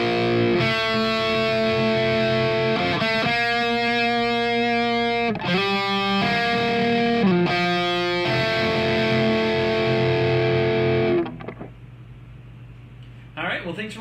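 Guitar plays the second section of a song's intro with effects and distortion: sustained, ringing chords changing every second or two, loud and close, ending in a fade and a brief strum.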